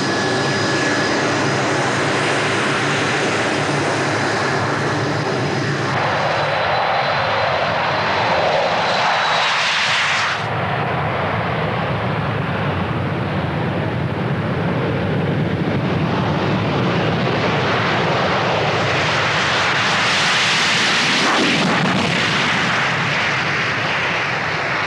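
Blackburn Buccaneer jet aircraft in flight, a loud continuous engine roar with shifting rushing tone, swelling and changing as it passes, steady and without speech.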